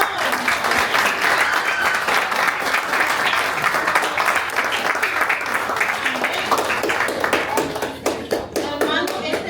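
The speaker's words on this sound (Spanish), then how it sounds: "¿Cuánto le dan un aplauso al Señor?" A church congregation bursts into sustained applause, many hands clapping in a loud, dense wash, with individual claps becoming more distinct and sparse toward the end; a voice may surface briefly.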